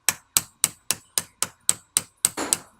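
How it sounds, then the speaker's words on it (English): A brass hammer taps roll pins out of a rivet squeezer yoke in ten sharp, evenly spaced metallic strikes, close and loud, with a slight scraping rattle after the last few blows. "I recommend a brass hammer."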